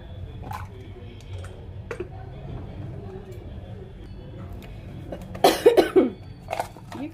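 Coughing fits from a home cook preparing chole and white sesame, several harsh bursts clustered near the end over low kitchen background noise.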